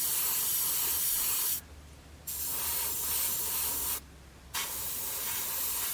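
Airbrush spraying MRP paint in light coats onto a 1/48 scale Hurricane model canopy: a steady close hiss of spray broken by two short pauses where the trigger is released.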